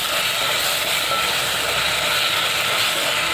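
Ginger, garlic and green chili paste sizzles in hot oil with fried onions in a pan, giving a continuous, loud, even hiss with no pauses and no voices.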